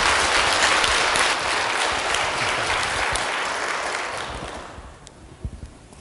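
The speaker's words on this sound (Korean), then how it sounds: "박수로 맞아주시기 바랍니다" A church congregation applauds to welcome a missionary preacher, steady broadband clapping from many hands that holds for several seconds and then thins out and fades near the end.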